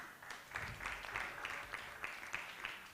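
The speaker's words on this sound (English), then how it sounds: "Let's give a big round of applause to our panelists and speakers for today." A small audience claps for panelists and speakers at a media talks event on AI and journalism, the applause faint and distant with a loose, uneven rhythm throughout.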